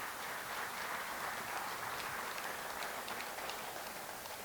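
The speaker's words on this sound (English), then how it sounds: "Let's have another round of applause for Dan." Steady, dense applause from an audience at an electric cooperative's annual meeting, a continuous crackling wash of clapping that holds at an even level throughout with no voices over it.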